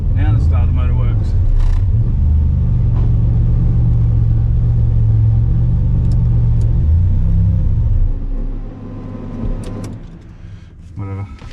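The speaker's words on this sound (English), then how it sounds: "Now the starter motor works." A stock Holden Ecotec V6 turbo engine with a new starter motor runs with a loud, close, steady rumble for about eight seconds, then drops away. Voices talk in the background.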